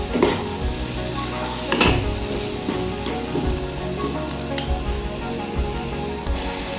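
Egg khagina mixture frying and being stirred in oil, with a dense close sizzle broken by repeated spatula scrapes and knocks against the pan in an irregular rhythm.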